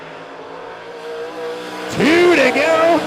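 Super stock race cars at Monett Motor Speedway hum in the distance, then a car's engine swells and whines with rising pitch as it passes, all beneath a track announcer's commentary.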